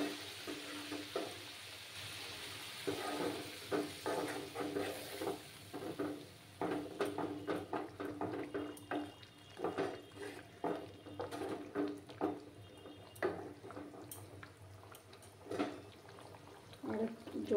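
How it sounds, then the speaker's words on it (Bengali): Hot water poured into a pan of potatoes frying in spices, bubbling and sizzling at a quiet level with scattered crackles and soft stirring clinks, a voice speaking faintly underneath. "আর জলগুলো পুরোটা দিয়ে দিলাম যাতে আলুগুলো আমার ভালো করে একদম সুসিদ্ধ হয়।"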